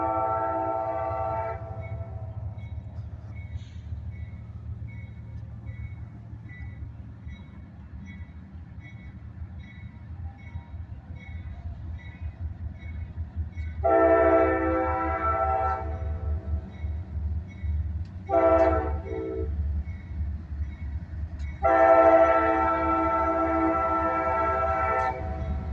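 Freight train with three locomotives passing outdoors in South Carolina, a steady low rumble of rolling cars throughout, broken by several loud horn blasts of varying length, the last one long.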